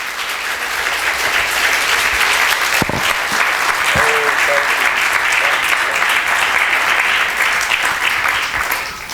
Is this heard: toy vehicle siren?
no